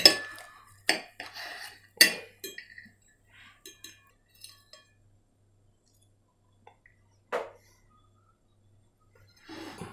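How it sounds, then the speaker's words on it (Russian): A utensil stirring potatoes and cheese in a baking dish, giving sparse, close clinks and scrapes against the dish with quiet gaps between them. "Вот шавелим картошку, шавелим сверху картошку и сыр"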